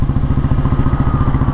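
A 1957 Royal Enfield G2 vintage Bullet motorcycle being ridden, its single engine thumping in a steady, loud, close rhythm with mechanical clatter and no voices over it.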